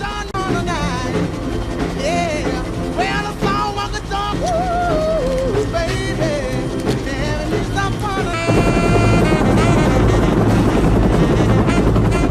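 Helicopter flying in a French action film, a steady rotor drone running under music throughout, growing louder and denser in the last few seconds.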